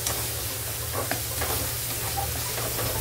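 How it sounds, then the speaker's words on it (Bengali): Spice paste for a rohu fish curry with elephant foot yam sizzles steadily in hot oil while being stirred, giving a constant close hiss with faint stirring scrapes. "দিয়ে ভালো করে নাড়াচাড়া করবো, মশলাটা ভালোভাবে কষিয়ে নেবো।"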